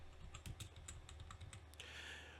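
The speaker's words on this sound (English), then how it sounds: "I'm gonna type in Neo Turf." Quick keystrokes on a computer keyboard, a run of close, distinct clicks at an uneven pace, ending with a brief rushing noise.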